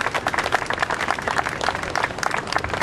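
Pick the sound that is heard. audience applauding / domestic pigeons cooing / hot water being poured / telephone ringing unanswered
audience applauding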